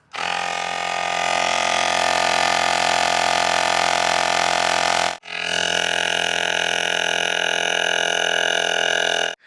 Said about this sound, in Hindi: अब कर देते हैं क्यूबो को चालू।